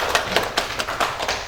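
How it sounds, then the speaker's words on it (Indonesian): Applause at a 2025 literacy event hosted by the Blitar regency library and archives office in Indonesia, sounding as a small group of fairly close hand claps in loose, uneven bursts. "Tepuk tangan sekali lagi buat kita semuanya"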